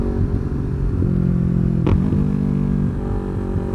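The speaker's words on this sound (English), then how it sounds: "I think this is the loudest bike I've ever ridden." A highly modified Yamaha R3 motorcycle rumbles close by with a loud, throbbing exhaust, holding a steady idle-like drone with one short sharp blip near the middle.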